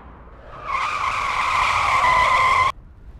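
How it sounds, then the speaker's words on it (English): A sustained, high-pitched tire screech from braking, rising in and holding steady for about two seconds before cutting off abruptly. "if you hear the screech of brakes"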